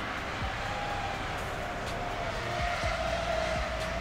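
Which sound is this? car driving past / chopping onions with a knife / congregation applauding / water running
car driving past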